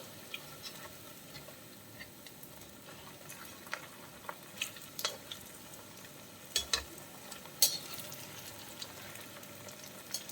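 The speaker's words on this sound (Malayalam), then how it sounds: "രണ്ട് വശം നന്നായിട്ടൊന്ന് വറുത്തെടുക്കാം" Soft, low crackle of cauliflower frying in oil, with scattered louder pops and spatters over a quiet sizzle.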